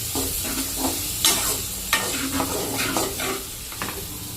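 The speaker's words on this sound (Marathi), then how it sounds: "आता मॅरिनेट केलेले सोयाबीन्स ॲड करून घेणार आहे मी। प्रॉपरली मिक्स करायचं।" Marinated soybeans mixed with Kashmiri red chilli powder and biryani masala are stirred in a hot pan for soya rice. A spoon scrapes and clacks irregularly over a soft continuous sizzle, close and fairly loud, with no talking.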